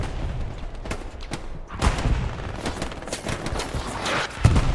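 Machine gun fire in the Hell Let Loose competitive match on the Hürtgen Forest map: dense bursts of automatic fire mixed with distant gunshots and booms, steady and loud throughout with no talk.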